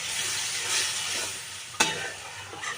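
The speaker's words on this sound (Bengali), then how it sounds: "এবার একটু আন্দাজ মতো জল দিয়ে দিচ্ছি" Water being added to a simmering beet and potato curry, a steady soft hiss of the pan with a brief sharp clack partway through and a few light stirring scrapes.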